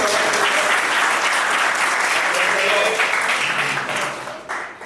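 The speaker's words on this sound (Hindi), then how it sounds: "तालियां बजाएंगे" A church congregation gathered for a service in Kolkata applauds, a loud, continuous wall of clapping from many people that carries on steadily, then thins and trails off at the end.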